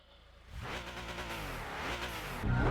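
A car in the racing game Gran Turismo 5 accelerates down a straight: the engine note rises steadily through a gear, loud and close, then swells again near the end, with no talking over it.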